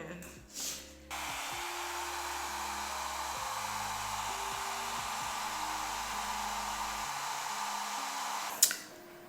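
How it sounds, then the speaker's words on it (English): A hair dryer blows steadily with a loud, continuous whoosh for several seconds, with brief handling noises at the start and a click near the end. "when I use my blow dryer"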